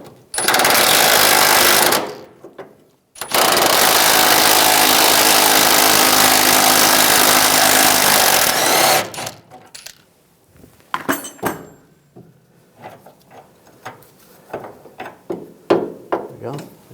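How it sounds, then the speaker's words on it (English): Impact wrench with a 21mm socket backing out a rear shock bolt on a 2011-2018 Ram 1500, two loud sustained buzzing bursts followed by scattered metallic clicks and clinks of the bolt and nut coming free. "I'm using a 21mm socket, take the bolt out"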